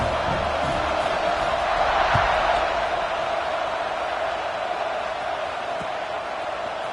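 Football stadium crowd at an Iowa game roars during a kickoff after a comeback drive, a broad sustained distant wash of cheering that swells slightly and fades.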